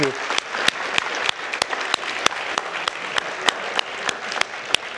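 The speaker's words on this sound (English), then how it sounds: "Can we give the parents a big round of applause, please?" An audience gives the parents a round of applause, steady dense clapping with sharper individual claps standing out, continuing for several seconds without talk.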